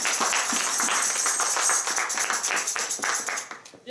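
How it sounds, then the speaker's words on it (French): A church congregation clapping in praise of the Holy Spirit, a steady stream of hand claps from many people filling the room for several seconds before trailing off. "On va acclamer le Saint-Esprit. Acclamons le Saint-Esprit de bien-aimé."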